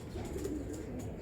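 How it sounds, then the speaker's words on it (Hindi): Domestic pigeons, an old prized loft flock, cooing softly in a low murmuring burble that runs steadily through the short stretch, close by with faint background noise and no talk. "ये कबूतर देखें, पुराने कबूतर"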